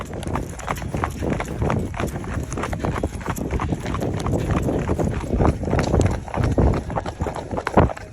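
Horse hooves clip-clop steadily on a hard surface, several animals moving at once, with some voices in the background.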